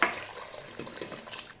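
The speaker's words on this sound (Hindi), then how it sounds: "तो इसे हम पानी के साथ ही डाल देंगे।" Water poured into a pan of mutton bong curry (bong ka salan), a brief splashing trickle that fades quickly.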